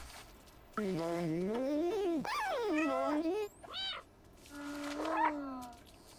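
A cat in the video game Stray meows in several drawn-out, rising and falling calls, loud and close, with a short gap and a final higher meow, alone without talk over it.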